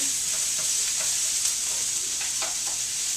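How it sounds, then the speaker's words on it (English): Green onion sizzles in a hot pan for a vegetable stir fry, a steady close frying hiss with small crackles and occasional stirring scrapes, and no voices. "Get that going nice and sizzly."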